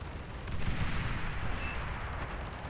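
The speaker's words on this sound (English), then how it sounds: "That was a pretty big explosion." A large explosion in the real-time strategy game Beyond All Reason swells into a dense, booming rumble that rolls on steadily for a couple of seconds, loud and without talk.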